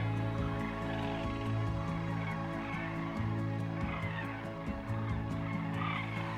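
A flock of sandhill cranes calls overhead in flight, their rolling, overlapping cries running continuously over a steady low hum.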